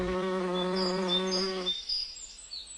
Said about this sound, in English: The bees buzzed happily.